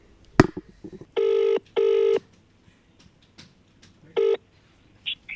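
Phone dialing on loudspeaker: a sharp tap, then a few loud steady keypad tones in a row, separated by short gaps and faint handling noise, close and clear.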